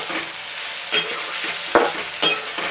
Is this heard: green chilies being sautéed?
yes